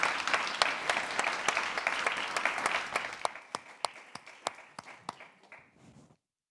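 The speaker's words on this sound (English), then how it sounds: "can we just give a big round of applause for all the panelists?" Conference audience applauds the panelists at an afternoon plenary, a full wash of clapping that dies down into a few scattered claps before falling silent.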